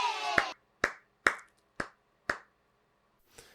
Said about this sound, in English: Let's give all the winners a round of applause.